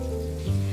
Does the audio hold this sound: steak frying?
yes